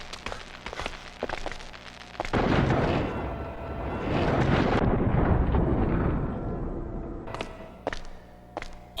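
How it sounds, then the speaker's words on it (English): A time bomb detonates in the video game Resident Evil Outbreak File 2, a sudden heavy blast followed by a long rolling roar that fades over several seconds between sharper clicks and thuds. "the time bomb produces quite a massive explosion"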